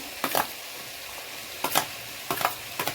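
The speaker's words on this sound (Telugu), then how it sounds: "ఇదిగోండి ఇందులో ఇప్పుడు క్యాప్సికమ్ వేస్తున్నానండి" Capsicum frying in a hot pan for onion samosa filling, a steady soft sizzle under several sharp stirring scrapes of a spatula against the pan, close by.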